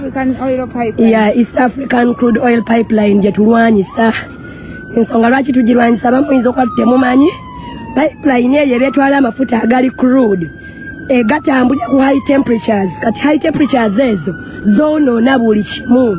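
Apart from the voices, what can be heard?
ambulance siren passing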